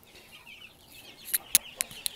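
Faint clucking and a few sharp high chirps from Czech-bred chicks, close by in a quiet space, with short bursts near the end.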